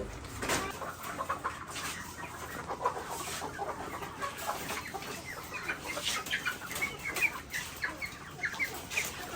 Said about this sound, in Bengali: মুরগিগুলো কিন্তু খুবই অ্যাক্টিভ আছে